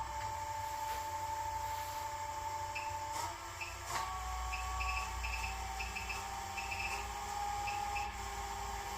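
A Nova Nebula wood lathe runs at about 1000 RPM, a quiet, steady motor hum with a faint whine and a few small clicks as the speed knob is turned, close by and with no talk.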